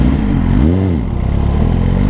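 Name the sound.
Suzuki GSX-R 1000 motorcycle engine braking on downshift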